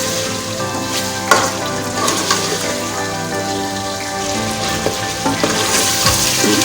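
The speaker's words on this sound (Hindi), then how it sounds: "हम इसे अच्छे से गोश्त को इसमें फ्राई करेंगे यानी कि भून लेंगे" Mutton pieces fry and get stirred in a pot while browning for a chicken salan, a loud continuous sizzle with occasional spoon clanks and scraping, close up, no voices.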